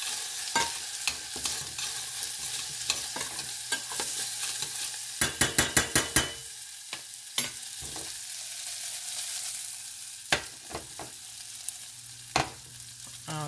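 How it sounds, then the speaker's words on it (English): White wine sizzling and cooking off in a pan while a spoon stirs through it, steady frying hiss under repeated scraping strokes, with a quick run of close clacks partway through. "I'll just stir this around. It won't take long till all the liquid cooks off."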